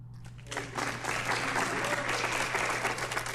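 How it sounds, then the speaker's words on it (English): A debate hall audience breaks into sustained applause, a dense wash of clapping heard at a moderate distance over a steady low hum, with faint voices mixed in. "Applause."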